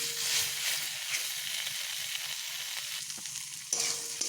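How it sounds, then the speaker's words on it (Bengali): Fried pointed gourd sautéing in a pan, a close continuous sizzle with scraping and stirring strokes and a brief clink near the end. "এবার এই সবগুলোকেই আমি বেশ ভালোভাবে এভাবে কষিয়ে নেব"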